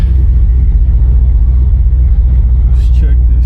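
A 1972 Pontiac LeMans with its 400 V8 idling, a loud steady low rumble close by, with a brief higher whine near the end and a person talking over it.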